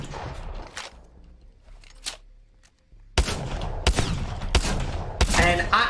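Peacekeeper shotgun blasts in the video game Apex Legends: after a quiet stretch with a few faint thumps, a handful of loud, sharp shots land about a second apart under a low game soundscape.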